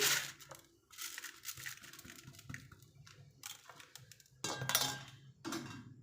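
Rice is tipped into a large mixing bowl for mumbar stuffing, giving a close, rustling pour broken by clinks and clatter of the bowl and utensils in bursts.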